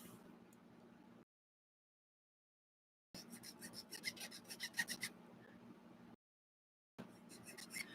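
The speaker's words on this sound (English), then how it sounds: "I'm using the file so I don't remove more material than I want to" A hand file rasps on a G scale model train part in two close bursts of steady back-and-forth strokes, separated by a silent gap.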